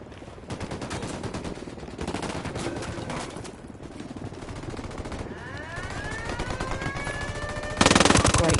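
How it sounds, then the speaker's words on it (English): Sustained machine gun fire in the video game Ghost Recon Wildlands rattles on in rapid bursts throughout, loud and close, with a sharper blast near the end and no talking. "Opening fire on these fuckers."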